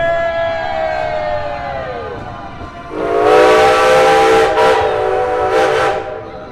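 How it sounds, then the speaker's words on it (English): A steam locomotive's chime whistle on a Halloween excursion ride sounds a long sustained blast that bends down in pitch, then a second loud blast with bursts of hissing steam, close and dominant. "he can hear us up there in that locomotive, they'll blow that whistle"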